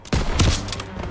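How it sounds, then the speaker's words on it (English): Suppressive gunfire in Call of Duty WW2, a short loud burst of rapid shots that begins abruptly and rings close. "Lay suppressive fire so I can take out those flat guns."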